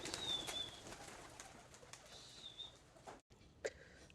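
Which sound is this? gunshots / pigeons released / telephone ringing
pigeons released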